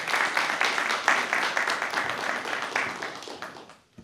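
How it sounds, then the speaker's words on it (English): A poetry-reading audience at a college poetry café applauds a poet, a full, steady roomful of clapping that holds for several seconds and then quickly dies away. "Let's give him a round of applause"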